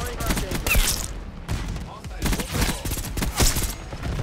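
Rapid automatic gunfire from a weapon in Black Ops 6, loud sustained bursts of shots broken by short pauses, with a player talking over the shooting.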